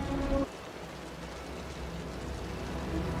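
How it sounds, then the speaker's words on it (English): Heavy rain falls in the video game Wuthering Waves as a steady, dense broadband hiss that continues evenly throughout, with a brief tonal sound fading out in the first half second. "The rain's getting heavier."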